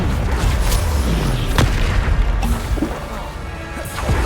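Spell explosions from the Bombarda charm in Hogwarts Legacy boom and crash in a dense, rumbling string of blasts and impacts, with sharp pops and whacks over a constant low roar.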